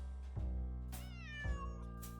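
A cat meows in the Nancy Drew game Secret of the Old Clock, two clear, close, drawn-out meows with rising and falling pitch over a steady low background hum.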